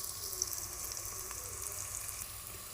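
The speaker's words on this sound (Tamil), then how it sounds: "நல்லா வதக்கிக்கலாம்." Tomato and masala spices sautéing in oil for a Tiruppur-style mutton curry: a steady, quiet hiss and crackle of frying with faint scraping, continuous and unbroken with no voices.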